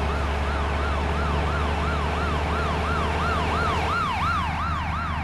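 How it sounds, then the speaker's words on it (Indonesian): Police car siren in Bus Simulator Indonesia: a rapid wailing siren sweeping up and down in quick regular cycles, loud and continuous, layered over a low vehicle engine hum, with no speech. "Polisinya nyalain sirine"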